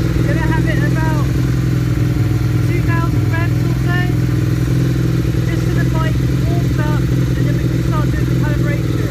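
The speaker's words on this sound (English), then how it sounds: "I'm going to let the bike warm up a bit." A Suzuki SV650 motorcycle engine warming up at a steady idle of about 2,000 revs, a constant low drone throughout, with chirpy birdsong and clatter above it.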